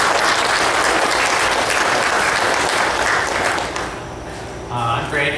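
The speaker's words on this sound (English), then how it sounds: "Let's give them a round of applause there." Loud, full audience applause at a dairy cattle genetics talk, sustained for several seconds, then dropping off as a voice begins speaking near the end.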